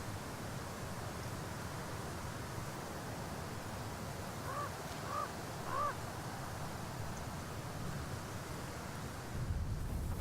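A raven caws outdoors, three distant, fairly faint calls in a row under steady wind noise, with a gust rising at the end.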